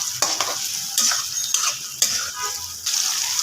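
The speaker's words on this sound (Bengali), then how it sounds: "এখানে আমি দিয়ে দিব চিংড়ি মাছ। চিংড়ি মাছ এর উপরে আমি একটু ভেজে নিব" Prawns frying with browned onions in a pan, a continuous crackling sizzle broken by repeated scraping stirs of a spatula, close and fairly loud.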